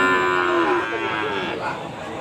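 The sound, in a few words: cattle mooing at a cattle market in Kragan Rembang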